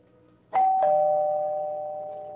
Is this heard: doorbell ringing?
yes